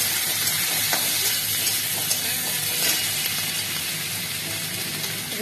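Tomato and capsicum fry in hot oil for chili chicken, giving a dense, continuous sizzle and hiss with a few faint clicks of stirring.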